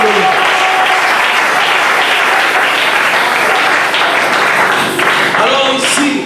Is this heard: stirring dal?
no